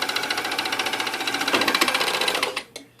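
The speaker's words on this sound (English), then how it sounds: "stitch all the way around back to where you started" A sewing machine runs steadily, stitching neck binding around a lacy tank top, its rapid even needle pulses loud and close before it slows and stops near the end.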